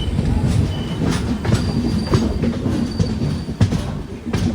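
A train passes through a railway station in Kerala, with a loud, continuous rumble of rolling wagons, rhythmic wheel clatter and brief squeals close at hand.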